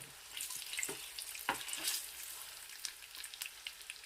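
Aloo keema rolls fry gently in a pan, giving a faint, steady sizzle with a few soft crackles and pops as they are turned.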